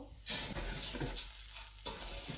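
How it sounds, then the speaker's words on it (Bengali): Rice is tipped into a hot pot of spiced oil for pulao and stirred, bringing bursts of sizzling and scraping close up, with the loudness rising and falling with each stir. "এখন চাল অ্যাড করব"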